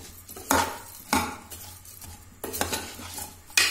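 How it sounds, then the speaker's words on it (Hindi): Dal and rice being stirred and lightly roasted with vegetables in a pot for moong dal khichdi, with a few distinct spoon scrapes against the pan over a low, steady background. "दाल चावल को हम सब्जी के साथ थोड़ा सा भून लेंगे"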